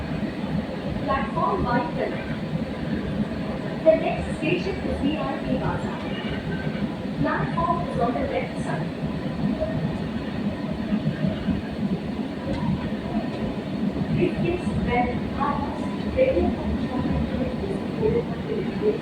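A Kolkata Metro Orange Line train runs between Beleghata and Kavi Subhash with a loud, continuous low rumble and rattle of the cars, heard from inside over the full length, with no clear talk.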